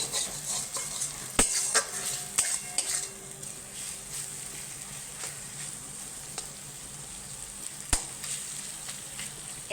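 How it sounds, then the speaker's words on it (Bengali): Pointed gourd (potol) frying in a pan hisses softly while a spatula stirs it, with occasional sharp knocks and clinks of metal on the pan, close and fairly quiet. "এবার মিষ্টি দিয়ে আর আবার ভালো করে নেড়ে চেড়ে নেবো।"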